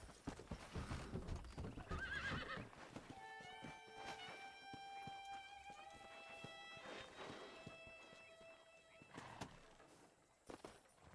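Horse hooves clip-clop at a walk in the Western video game Red Dead Redemption, with a horse neighing loudly partway through and steady hoofbeats continuing close by, no talk over them.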